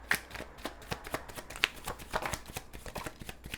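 Tarot cards riffle and slap as they are handled and shuffled, giving a close, steady run of crisp papery flicks and taps.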